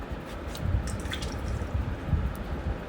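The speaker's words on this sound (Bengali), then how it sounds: "এইভাবে আমি কিন্তু ছোট ছোট টুকরো টুকরো করে আটা জলের মধ্যে এভাবে আমি মাখিয়ে নিচ্ছি" Jackfruit pieces worked by hand in a bowl of flour-and-water mix for a fish curry, giving soft wet squishing and dripping sounds, close and steady, with no talking.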